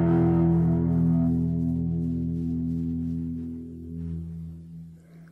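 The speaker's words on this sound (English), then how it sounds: "Effect number 5, reverb." A sustained electric guitar chord rings out with a long reverberant wash, slowly decaying and fading into echoing tails.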